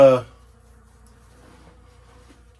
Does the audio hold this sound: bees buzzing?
yes